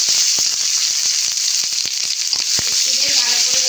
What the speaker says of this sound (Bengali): একটা তেজপাতা, শুকনো লঙ্কা আর এলাচ আর লবঙ্গ দেব।